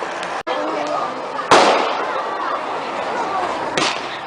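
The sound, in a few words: fireworks going off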